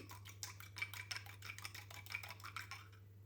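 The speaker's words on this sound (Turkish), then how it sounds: "Onu çatalla iyice çırptım" Egg white with a pinch of salt being whisked with a fork in a dish, a fast steady run of light tapping, clinking strokes, close and fairly quiet over a low background hum.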